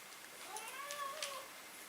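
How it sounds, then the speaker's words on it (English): A house cat meows insistently for its dinner, a faint, drawn-out rising and falling cry in a quiet room, heard alone without talking. "I've got a cat who thinks it's dinner time, but it's only 4 p.m."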